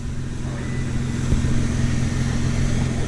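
Cars idle and rumble nearby at a car meet in Japan, a steady low engine drone with a slight swell as a vehicle pulls up close.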